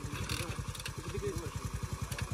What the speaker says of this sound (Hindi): मोटरसाइकिल दी क्लच प्लेटा छुट्टी कर गई